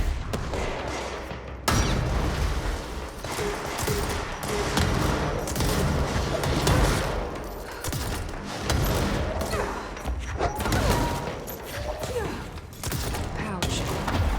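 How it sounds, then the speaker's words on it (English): Bursts of gunfire in the video game Control crackle and thump in rapid volleys, fairly loud and continuous, mixed with other game effects while a player talks over them. "I can hear someone shooting"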